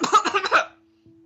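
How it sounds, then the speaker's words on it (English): A character in the Cinderella Phenomenon game gives a short rough cough and throat clear, a brief burst close to the mic that cuts off into near silence, then a faint tone. "he clears his throat"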